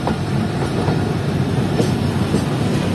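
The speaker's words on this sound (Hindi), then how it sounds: "तो पहुंच रही है हमारी ट्रेन मीरपुर खास जंक्शन रेलवे स्टेशन पर" Shah Latif Express, inaugural Karachi to Mirpurkhas run, pulls into Mirpur Khas Junction railway station with a loud, close rumble of rolling coaches and wheels, steady throughout with no voices.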